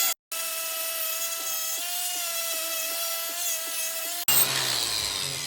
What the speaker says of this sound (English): Alright, so wire brush on the grinder.